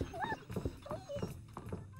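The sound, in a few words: dog in the video game Neighbours from Hell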